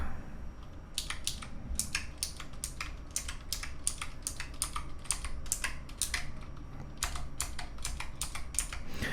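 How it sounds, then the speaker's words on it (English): Steady clicky keystrokes on an experimental optical mechanical keyboard with purple clicky switches, each press giving a crisp click and tactile bump, typed in a quick regular rhythm close up with no talking. "So when you push the keys, it has a click and a tactile bump."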